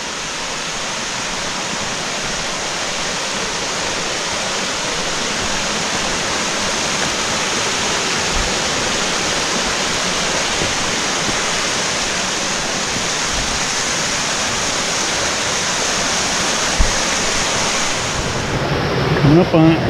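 A small creek rushes loudly and steadily through a rocky channel on a forest hike toward Rainbow Falls, a continuous wash of water noise with a few soft thumps of footsteps near the end.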